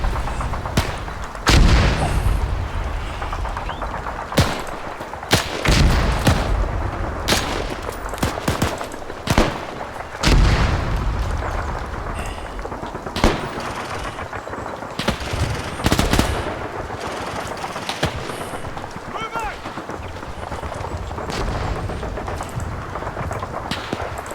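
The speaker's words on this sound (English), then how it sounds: "That's why the MG42 was so feared." MG42 machine gun fire in the ARMA 3 game during a Normandy battle: repeated loud bursts of automatic gunfire with sharp shots and booms across a dense, noisy soundscape.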